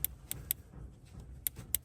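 Sharp, faint snapping ticks as the ignition coil wire of a 1964 Chrysler Newport sparks to ground, five crisp clicks in two clusters with quiet gaps between them.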